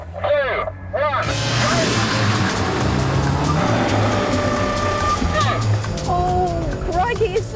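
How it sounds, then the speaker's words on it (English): A Mitsubishi Evolution 7 accelerating hard and racing, loud and close, with a steady engine roar that rises and shifts in pitch and occasional tyre squeal, while a person talks over it. "now I'm in the Mitsubishi Evolution 7"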